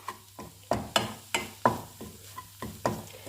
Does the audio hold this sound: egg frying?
yes